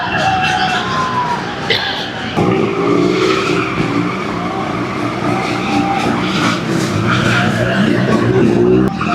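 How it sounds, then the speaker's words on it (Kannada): Royal Enfield motorcycles doing stunts at a World Motorcycle Day gathering in Bangalore, with loud revving engines and screeching, skidding tyres continuing throughout amid crowd noise. "ರಾಯಲ್ ಎನ್ಫೀಲ್ಡ್ ಅವ್ರ ಸ್ಟಂಟ್ ಮಾಡತಾರ"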